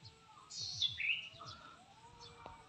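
Birds chirp in a few short bright bursts, with a longer call midway, fairly near over a low murmur of background noise.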